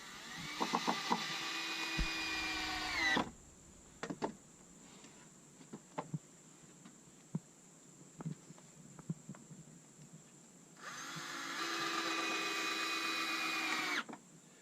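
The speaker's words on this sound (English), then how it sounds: "I'm going to put 2 or 3 screws in every piece of wood." Power drill driving screws into wooden deck boards during a deck overhaul, whining loudly in two long bursts at the start and end, with scattered knocks and clatter of handling in the quieter stretch between.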